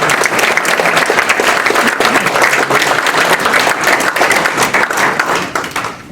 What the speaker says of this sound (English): Please give Richard Donnelly a huge round of applause.